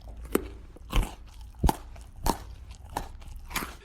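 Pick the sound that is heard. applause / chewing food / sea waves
chewing food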